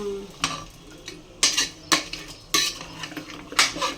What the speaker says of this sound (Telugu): ఇదిగోంది మటన్ కలుపుతుంది మా అమ్మ